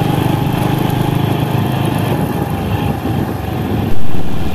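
A motorcycle engine drones steadily and loudly while climbing a steep, winding mountain road at Tatlong Bundok, rising slightly in loudness near the end.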